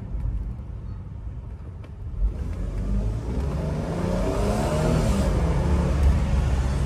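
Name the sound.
Porsche engine revving while accelerating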